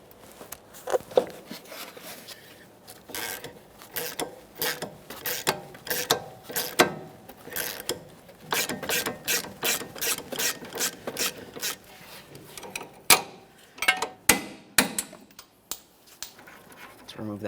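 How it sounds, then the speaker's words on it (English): Rapid metallic clicking of a 3/8-inch drive ratchet loosening the sway bar link nut on a 2014–2019 Toyota Corolla, bursts of ratcheting strokes repeating close by, with brief pauses between runs. "I'll be using a 3/8 drive ratchet on this stud"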